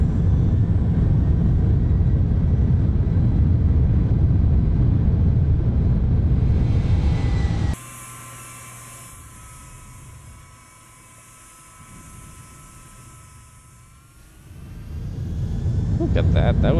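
A heavy airliner touches down on a short runway in X-Plane 11, with a loud constant engine roar that abruptly cuts to a quieter whine and rolling rumble before the engines build again.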